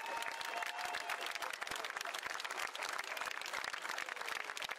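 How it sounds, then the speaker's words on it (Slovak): An audience at a town's 80th anniversary celebration in Partizánske applauds. The clapping is dense and steady and continues without a break for several seconds. "aj ďaká vášmu potlesku, samozrejme"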